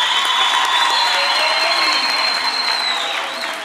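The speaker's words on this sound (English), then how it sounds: "can we give them another big round of applause" Applause fills a university graduation ceremony hall, a loud sustained wash of many hands clapping with crowd cheering and a bright held tone over it, fading slightly at the end.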